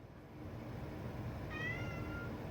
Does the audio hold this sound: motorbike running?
no